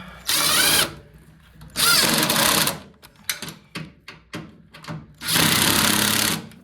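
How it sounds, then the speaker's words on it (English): A power driver screwing parts back onto a Craftsman 24-inch snow thrower, long whirring bursts alternating with a string of short clicks and taps, close and loud. "Now we're just screwing back in here."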